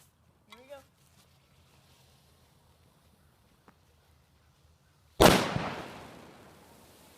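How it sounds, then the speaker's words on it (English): A sudden loud bang of sodium metal exploding in water bursts out after a quiet stretch with a brief voice, followed by a fading hissing rush. "that was the second explosion from the sodium metal"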